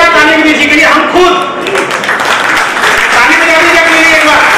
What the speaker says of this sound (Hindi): जोरदार ताली विनी जी के लिए